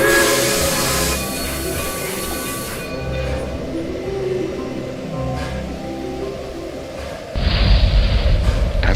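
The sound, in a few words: train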